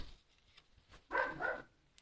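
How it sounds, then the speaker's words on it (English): Indoors, a dog barks a short burst of two or three muffled yaps somewhere in the background, brief and moderately loud against near silence. "Sorry for the dog barking at the background."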